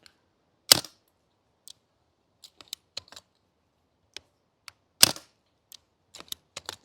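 Two sharp pops from a gas-powered airsoft sniper rifle, a few seconds apart, with scattered small mechanical clicks of the bolt and handling in between, close and otherwise quiet.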